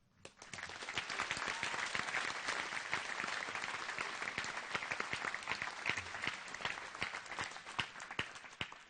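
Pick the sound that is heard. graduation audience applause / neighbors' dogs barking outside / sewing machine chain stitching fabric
graduation audience applause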